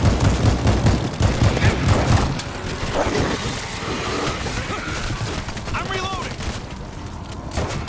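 Gunfire from a group shooting zombies in the game World War Z, rapid bursts of fusillade up close, with players shouting over it and some crashing game effects.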